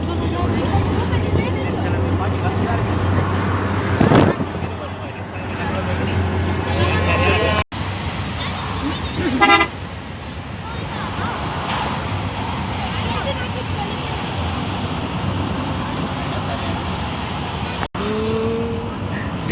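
A car rides through traffic on the road to Hala, with a steady engine and road rumble inside the cabin, passing vehicles, a few sharp knocks, and people talking throughout.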